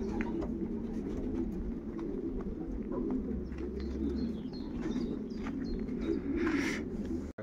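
Racing pigeons coo inside a loft, soft repeated throaty coos and occasional chirps over a steady low ambient hum, fairly close and quiet, with no speech.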